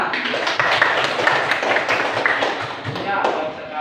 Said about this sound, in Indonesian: Ayo tepuk tangan untuk semua.